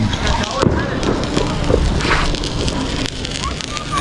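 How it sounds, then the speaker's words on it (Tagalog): Dense crackling bursts of New Year 2025 fireworks in Kuwait go off continuously, loud and close, with scattered sharp pops over a steady rumble. "may fireworks sila"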